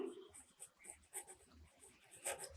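Letters being written by hand during an English lesson, faint scratchy strokes in short uneven bursts, very quiet and close.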